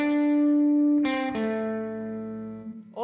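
An electric guitar phrase played alone: a long sustained note, then a few picked notes sliding between pitches, ringing with effects and fading at the end.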